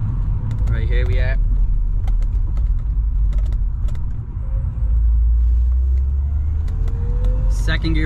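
A BMW E46 accelerates hard in second gear, its engine a loud steady rumble heard from inside the car, with creaks and clicks over it and a brief voice near the start.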